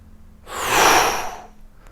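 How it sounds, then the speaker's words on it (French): A single strong, forceful exhale during a sophrology breathing exercise, a breathy rush of air swelling and fading over about a second, heard close and alone. "vous expirerez fortement."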